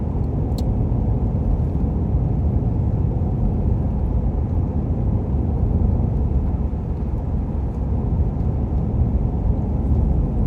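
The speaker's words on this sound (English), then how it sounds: "Y'all did see that car go by" A car passes on the road, a steady loud engine and tyre rumble filling the whole stretch without fading, with no voices.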